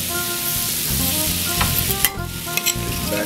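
Black tiger shrimp sizzle loudly in butter with scallions, a dense steady frying hiss broken by a few sharp utensil scrapes and taps.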